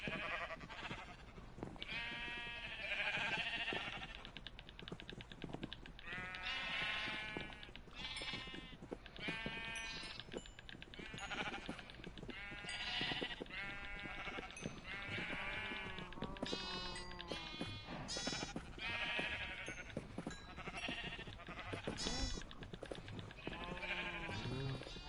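Repeated sheep bleats from Minecraft on PS4, several overlapping calls in steady succession over a quiet game background, moderately loud with no talking.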